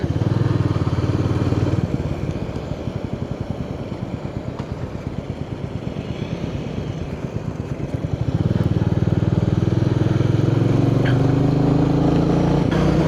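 Several Royal Enfield Meteor 350 motorcycles thrum along the NH49 highway in Odisha, a loud, steady engine drone with rhythmic pulsing that swells near the end, with no talk over it.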